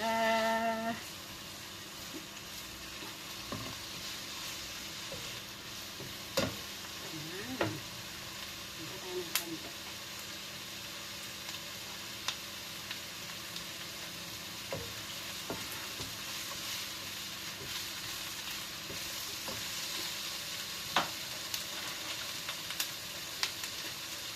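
Bean sprouts and puffed tofu sauté in a pan with a steady sizzle, punctuated by sharp clinks and scrapes of a utensil stirring at irregular intervals.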